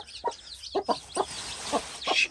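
Several short chirpy calls from chicks, soft and close, repeating irregularly over a faint hiss.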